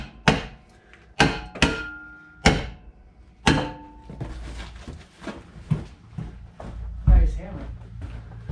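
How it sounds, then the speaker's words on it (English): A hammer strikes metal jack stands under a 1975 Plymouth Duster, several sharp ringing clangs spaced about a second apart, then a run of duller, quieter knocks and thumps close by. "put a little pressure on the jack stand, hit them with a hammer, and they get all four on the ground"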